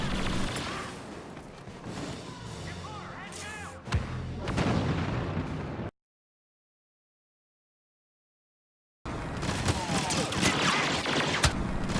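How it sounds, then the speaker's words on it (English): Rapid automatic blaster fire in Star Wars Battlefront, a dense loud stream of shots with booms mixed in, cutting out to silence for a few seconds and then resuming just as intense. "You can be halfway across the map, and you're still gonna hear that rapid fire."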